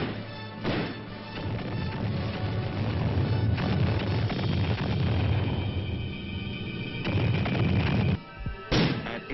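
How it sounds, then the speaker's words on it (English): Military artillery and mortar fire, including mortars from a combat support company, in a late-1950s infantry attack: a dense, continuous roar of heavy blasts and crashes, loud and sustained, with sharper bangs near the end. "At H-5, the artillery opens up. Along with mortars from the Combat Support Company."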